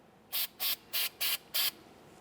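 Aerosol can of copper anti-seize sprayed onto the back side of a wheel bearing on a 2004–2006 Scion xB, heard as five short, even hissing bursts in quick succession, close and clear.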